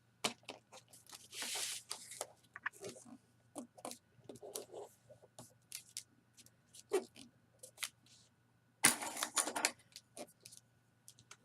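Paper pages of a small pocket recipe booklet being folded over, with crisp rustling and crinkling bursts, a few louder scraping creases and a sharp flurry near the end, close and fairly quiet with no talk.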